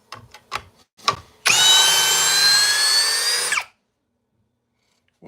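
A Ryobi power tool driving a 5/16 bit spins up with a loud, high whine for about two seconds, preceded by a few short clicks and knocks, then stops abruptly.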